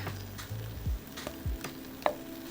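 Garlic sizzles in a pot of hot fat for beef and noodles, with a steady frying hiss broken by a few stirring clunks and scrapes near the mic, and no voices.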